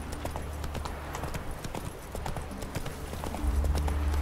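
Horse hooves clip-clopping at a quick gallop in The Witcher 3, a rhythmic run of close thuds with game ambience beneath, growing slightly louder near the end.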